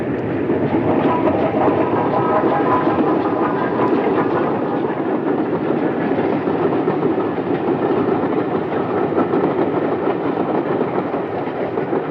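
A steam train rolls along rails beside a freshwater loch at Lochalsh in Scotland, giving a loud, continuous rumble with steady clickety-clack from the wheels and no break.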